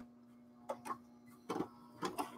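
Sewing machine stitching a paper angel ornament made from recycled materials, heard as three short separate bursts of stitching against a quiet room with a steady low hum.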